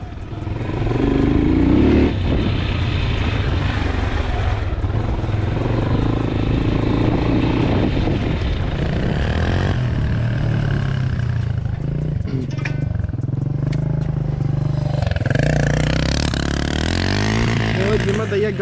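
Loud, rumbling engine noise with repeated revving swells, like Geon X-Road 200 motorcycles throttling nearby at a stadium during stunt riding, while voices talk over it.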